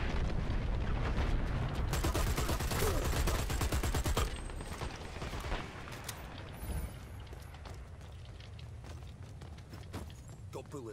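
Rapid gunfire in the online shooter Dirty Bomb crackles in dense automatic bursts for the first few seconds, then thins into scattered shots and clicks, with voices talking over the game.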